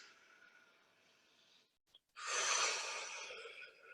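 Deep breathing in a guided breathwork session: a long, soft airy breath, a brief pause, then a louder, fuller rushing breath close to the listener, with no talking.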